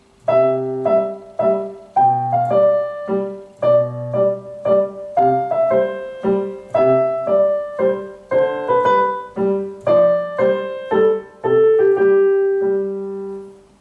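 A piano plays the first eight bars of La Donna e mobile, a simple, steady melody with bass notes beneath, clear and close, ending on a sustained chord.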